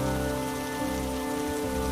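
Heavy rain falls steadily in a cartoon story, a dense, continuous patter that stays even throughout with a low rumble beneath and no voices.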